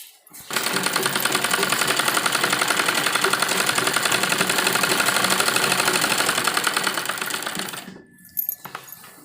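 A sewing machine runs steadily for about seven and a half seconds, stitching the joined pieces of a net blouse in a dense, even rhythmic whir, then stops and leaves a few faint clicks.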